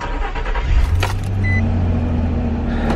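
A Nissan Xterra engine cranks and catches, settling into a steady idle hum after a brief key rattle, recorded close by.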